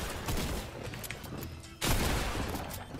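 A burst of rapid gunfire in the video game Fortnite, loud and dense, cutting out briefly before resuming even louder, with no talking over it.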